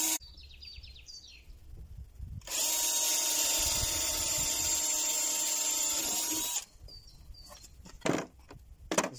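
A power drill with a bit bores pilot holes in a wooden board, a loud steady high whir lasting about four seconds, framed by quieter handling noises and faint birdsong.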